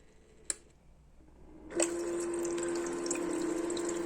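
A Gorenje IMD-1200W ice maker switching on: a faint click, then a pump kicks in with a steady motor hum and water running as the tray fills, continuing evenly to the end.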